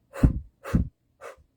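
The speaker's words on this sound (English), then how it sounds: "And doing the huff cough" Three close huff coughs forced out through the open mouth in a lung-clearing breathing exercise, the first two strong and the last one softer, with short silences between them.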